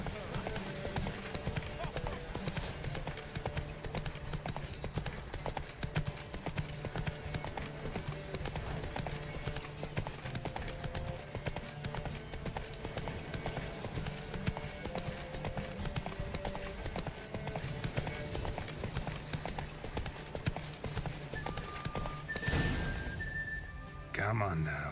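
Steady cantering hoofbeats of Geralt's horse Roach in The Witcher 3, a continuous rhythmic clip-clop at moderate distance with game ambience and someone talking over it.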